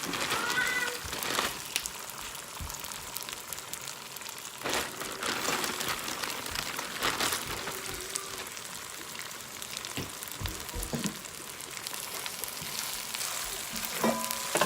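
Rice is added to a pan of frying garlic, giving a steady, close sizzle with scattered sharper scrapes and clatters of stirring throughout.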